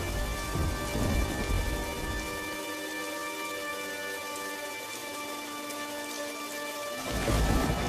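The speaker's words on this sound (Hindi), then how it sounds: "तभी अचानक से जोर का तूफान आया" Heavy rain pours steadily during a thunderstorm, with deep thunder rumbling near the start and end over a constant hiss, while a sustained tonal hum runs through the middle.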